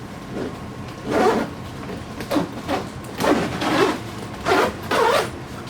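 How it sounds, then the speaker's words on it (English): A zipper on a LoveSac package is pulled open in a series of short raspy zipping bursts, close and fairly loud, with brief pauses between the tugs and no speech. "So let me try to find the zipper."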